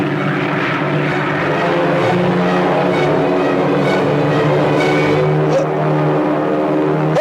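Propeller airplane flies overhead in a steady, loud engine drone that holds evenly throughout, with no talk.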